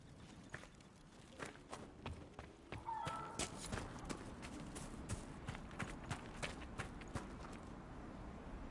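A horse walks in the video game Dragon Age: Inquisition, with soft repeated hoof clip-clops over a low ambient bed. The steps are faint and irregular, with a brief muffled voice partway through.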